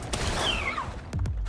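Gunfire from a shooting skill in Palworld, heard as a sustained burst of fire with a whistling sweep, then two sharp separate shots near the end, loud and close.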